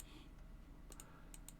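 Keystrokes on a computer keyboard during a Planet Zoo session, a brief cluster of faint, quick clicks near the end of a quiet stretch, close and soft with no talk.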